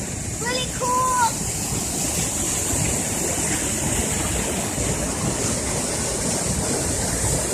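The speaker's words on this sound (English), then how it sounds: "We just saw this waterfall." A waterfall at Mount Rainier gives a steady, loud, broadband rush that fills the whole clip, with a couple of brief chirping tones near the start.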